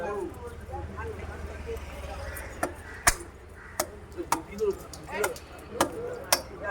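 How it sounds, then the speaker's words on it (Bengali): Sharp, irregular knife chops cutting a live rohu fish at a fish market in Nayabad, a handful of loud strikes spaced apart under steady nearby talk and market bustle. "দেখো বন্ধুরা মাছটা কেটে দিচ্ছে"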